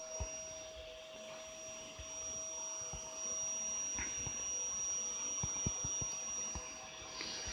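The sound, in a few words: vacuum cleaner running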